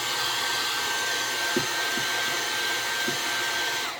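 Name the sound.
hair dryer on high heating a vinyl hood decal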